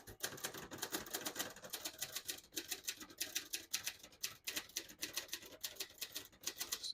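Typing on a 1970 Hermes 3000 vintage portable typewriter, rapid, even keystrokes in a steady cadence with brief pauses, close but quiet.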